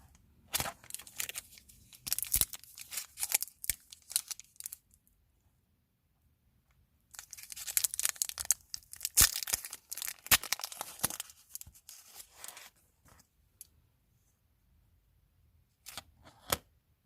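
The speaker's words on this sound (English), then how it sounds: "Let's get one gum out." A wrapped piece of watermelon bubble gum is unwrapped from a six-piece pack, giving close, crisp paper tearing and crinkling in two bursts with a quiet pause between them, and no talking.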